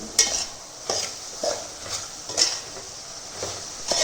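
A utensil stirs spices into a ridge gourd stir fry in a pan. It makes rhythmic scraping and clinking strokes about every half second over a faint sizzle, close and moderately loud, with no talking.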